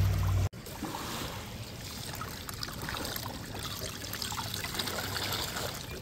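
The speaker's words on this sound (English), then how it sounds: "I like to rinse it out a little bit into a bucket before I take the mats out." Water trickling and splashing steadily as gold-prospecting material is rinsed into a bucket outdoors, a continuous close wet wash after a brief cut at the start.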